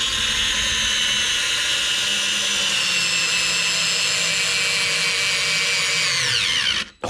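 A small cordless screwdriver drives a Torx screw with a continuous, loud whining motor hum held steady for several seconds, then it abruptly stops as the bit slips.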